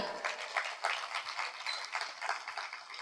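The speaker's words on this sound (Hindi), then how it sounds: "जोरदार तालियां।" Loud applause breaks out from an audience at a Hindi-language spiritual talk, a sustained rippling clatter of many hands, fairly near and alone without speech.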